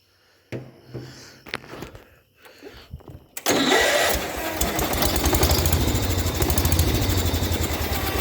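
A 1971 John Deere 120 lawn tractor engine cranks in a few short, halting attempts, then catches and runs roughly with a loud, steady chugging clatter, close by and with no talk.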